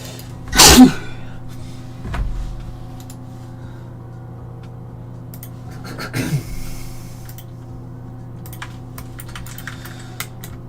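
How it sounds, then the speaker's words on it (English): A single sharp sneeze up close, followed by faint rustles and a second muffled burst over a low steady room hum. "I need to sneeze one."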